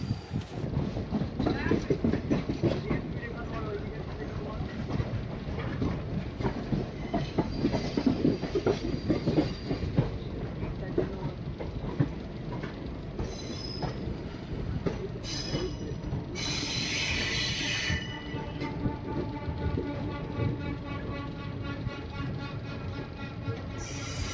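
A train clatters along the rails with a rhythmic clickety-clack and brief squeals of wheels, close and steady, with some talking faintly underneath.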